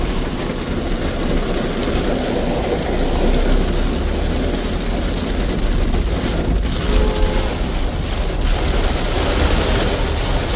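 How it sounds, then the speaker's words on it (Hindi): Heavy rain pours down steadily, a dense, loud hiss with no pauses, close and continuous throughout. "मतलब अब तक जो बारिश हो रहा था उससे भी ज्यादा जोर से बारिश हो रहा है।"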